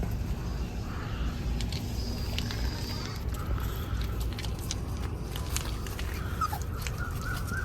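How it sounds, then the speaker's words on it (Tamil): A mother dog with four puppies outdoors: faint, scattered whimpers and small yelps over a constant background rumble. "இங்கே இருக்க நாய் ஒரு நாலு குட்டி போட்டிருக்குங்க"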